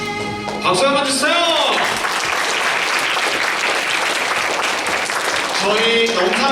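A young adult congregation at a Sunday church service breaks into sustained, dense applause lasting several seconds, with voices before and after the clapping.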